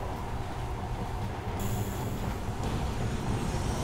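A train in the video game Metro: Last Light makes a steady rumbling roar inside a tunnel, loud and close. A thin high squeal comes in partway through, and nobody speaks.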